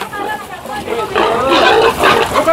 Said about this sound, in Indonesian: Oh, ini lagi mau pindah ke RPH ya. Babi-babinya tuh.